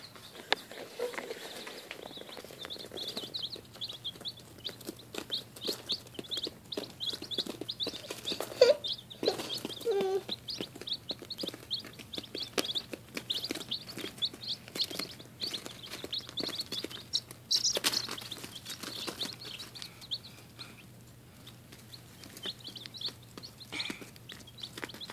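Young chicks chirp in a steady stream of high, thin peeps that run through the whole stretch, with faint rustling and scratching around them and no talking.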